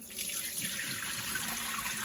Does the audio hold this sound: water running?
yes